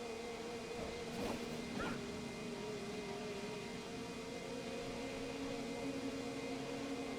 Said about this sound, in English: it's a room with nothing in it except for a loud noise and some dogs